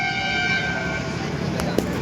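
Train horn and rail noise near a railway station beside a bus stop, a steady sustained toot with harmonic tones over background rumble and a brief click near the end, moderately loud.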